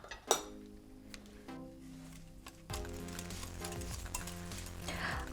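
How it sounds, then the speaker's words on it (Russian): Dough ingredients and egg mixed in a bowl for curd-and-raisin buns: soft stirring with a few light clinks of utensil against the bowl, close and quiet, over a faint musical background. "Перемешиваю."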